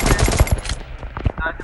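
Rapid bursts of gunfire in a 4v4 online shooter match crackle loudly in quick succession, a few sharp shots tapering off near the end, with a voice faintly underneath.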